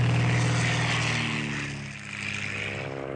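In an adventure film, a propeller airplane's engine drones loud and steady as characters escape by plane, dipping slightly before holding its continuous roar.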